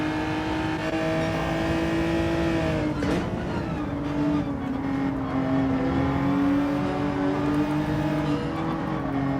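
A Bentley race car's engine in the Gran Turismo 7 racing game drones steadily at high revs, the pitch dipping and climbing as it shifts and accelerates, with no voices.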